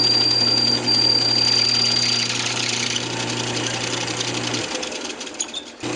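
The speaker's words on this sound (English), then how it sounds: "I'm going to take and hit the little tenons there with the chisel again real quick to take the wax off" A chisel touched against small wooden tenons on a spinning wood lathe to clear off wax, a loud steady mechanical whir and scraping hum that eases off near the end, with no talking.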